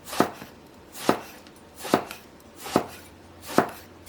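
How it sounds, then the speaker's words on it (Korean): Red cheongyang chili pepper is minced with a knife on a cutting board: five evenly spaced, crisp chops about one second apart, near and clear, with no talking. "빨간 청양고추도 다져 놓을게요."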